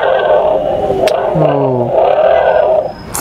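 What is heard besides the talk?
motorcycle sound played by a kids' sound book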